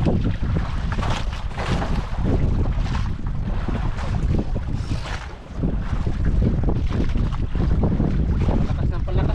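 Strong wind roars and buffets the microphone at sea aboard a fishing boat, a dense, steady rush broken by gusts, with engine and water noise mixed underneath.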